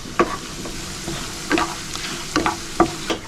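Finely chopped garlic and chopped green chilies frying in a pan while a spoon stirs. Several distinct scraping clatters ring out over a steady low sizzle.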